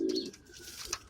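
Racing pigeons cooing inside a loft, one soft low coo followed by faint rustling and a brief chirp, close and alone in about a second.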